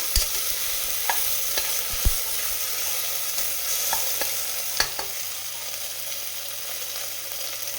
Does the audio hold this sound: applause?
no